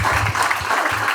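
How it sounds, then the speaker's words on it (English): Audience clapping at a prison chess program launch event, a dense, steady burst of applause from a crowd, close and fairly loud throughout. "you can clap for her again"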